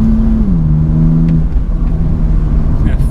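A BMW M4 CS engine drones loud and close from inside the cabin, its pitch dipping slightly and then holding steady under road rumble.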